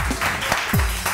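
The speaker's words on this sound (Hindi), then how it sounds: "बहुत सारी तालियां इनके लिए" Studio applause on a live TV morning show welcoming a new host, a short burst of clapping lasting about a second, with a low tonal sweep partway through.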